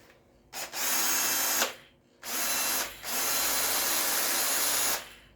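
An APRO cordless drill-driver made in 2023 runs in bursts, whirring on and off several times at first speed, second speed and in reverse, close and loud with brief pauses between runs.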